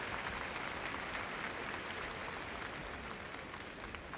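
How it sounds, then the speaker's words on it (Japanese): An audience applauds and cheers at the 2001 NHK Trophy figure skating competition after a free skate. The clapping is a steady, dense wash that sounds fairly distant and soft. "ご覧の歓声です。"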